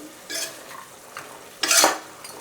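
Mutton for a Kongu-style mutton kuzhambu is stirred and sautéed in a pan, with a few scraping bursts of frying against a quiet background, the last one loudest, close and without talk.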